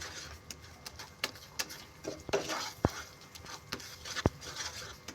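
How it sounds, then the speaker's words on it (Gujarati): A spoon scraping and clinking against a pan while milk powder is stirred into sugar syrup over a low flame for tutti frutti barfi, with sharp irregular taps and soft scrapes close by. "ધીમી ફ્લેમ ઉપર આવી રીતે મિલ્ક પાવડરને ચાસણીમાં મિક્સ કરવાનું છે."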